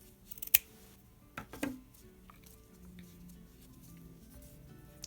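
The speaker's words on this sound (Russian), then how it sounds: "Обрезаю нить." Scissors cut knitted jersey yarn with a crisp snip, then a couple of quicker snips, followed by quiet rustling as the strand is handled at close range.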